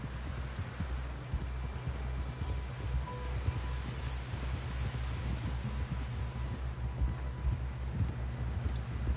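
Horse hooves clip-clop steadily on the ground in Red Dead Redemption 2, a continuous rhythmic trot close by over a low rumbling background with faint wind.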